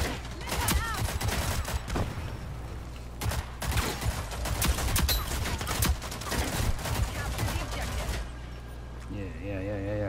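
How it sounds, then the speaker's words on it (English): Rapid gunfire in the Rogue Company video game, with close, dense bursts of shots running through most of the clip amid the game's other noise; players' voices are also heard. "who the hell was shooting me?"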